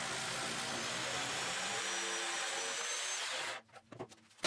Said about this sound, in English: Then I squared up the ends using the jigsaw.